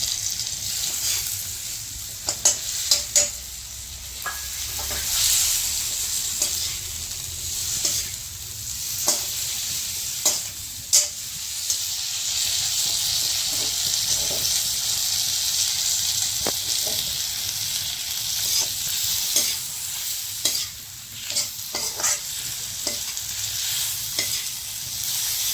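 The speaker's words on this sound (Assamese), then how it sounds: "প্ৰথমে বিলাহীখিনি ভাজি ল'ম অলপ সময় তেলত আৰু তাৰপাছত দিম কেপচিকাম" Chopped tomatoes fry in hot oil, with capsicum added after, making a steady loud sizzle throughout, broken by repeated scraping clicks of a spoon stirring the pan at irregular intervals.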